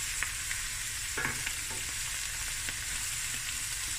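Prawns fry in a pan over medium-low heat, giving a steady, fairly quiet sizzle with occasional light clicks of stirring and no voices.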